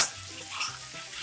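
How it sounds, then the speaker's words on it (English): Potatoes, carrots and red onion frying in a pan for a tuna casserole, giving a steady, soft, close sizzle that runs throughout with no talking. "I'm just frying them off like you normally would."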